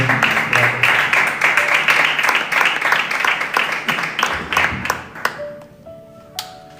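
A church congregation claps together after a Bible reading, a dense, steady round of applause that thins into scattered claps and stops near the end, with no talk over it.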